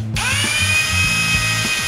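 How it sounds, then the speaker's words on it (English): Power drill boring holes into a homemade model plane built from junk and a golf club, a close, loud whine that spins up and then holds a steady pitch with slight load changes. "So now I'm just gonna get a drill, drill out a couple holes"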